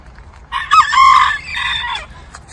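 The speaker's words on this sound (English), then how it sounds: "there's the little banty rooster" A bantam rooster crows once, close and loud, with faint clucking from chickens before and after.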